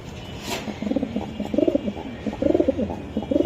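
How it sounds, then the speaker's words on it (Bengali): A racer pigeon coos up close in a series of soft, throaty, rhythmic bursts that repeat steadily with only a faint background murmur. "এই আরেকটা কবুতর আমি একটু দেখাই"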